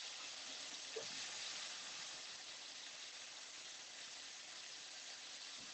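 Beef slices sizzle in a hot pan for a chilli beef stir fry, a soft continuous hiss of frying fat that stays faint and steady throughout.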